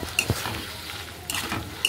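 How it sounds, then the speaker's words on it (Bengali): Fried teasel gourd pieces are stirred in a pan for a vegetarian curry, giving a few quick scraping stirs and soft sizzle close by, no talk. "এবারে দিয়ে দেবো ভেজে রাখা কাঁকরোলগুলো দিয়ে 1 মিনিট মতন আমি নেড়ে চেড়ে নেব"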